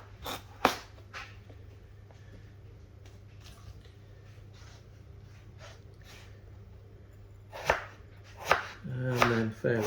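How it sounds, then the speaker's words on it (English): A knife chops potatoes on a board for a Spanish tortilla de patatas: a few sharp, close cuts early on, a long quiet stretch, then a cluster of quicker chops near the end. "Right, let's chop that in half, put it into quarters."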